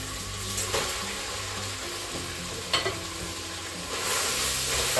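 Pasta being stirred through bacon fat in a pan for spaghetti carbonara, continuous sizzling with scraping stir sounds and a couple of sharper knocks, close and alone without speech.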